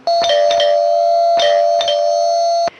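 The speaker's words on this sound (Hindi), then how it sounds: "चलो घंटी बजाते हैं।" An electronic doorbell rings loudly and repeatedly, a sustained bright chime with several quick strikes, close and alone.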